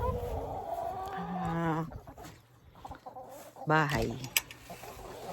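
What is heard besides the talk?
chickens clucking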